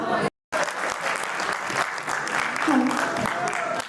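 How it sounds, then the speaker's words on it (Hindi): Audience applause after a duet of a Hindi film song at a stage event, thick continuous clapping that breaks briefly near the start and then resumes, with a voice faintly present over the crowd. "और जोरदार तालियां होनी चाहिए दोस्तों"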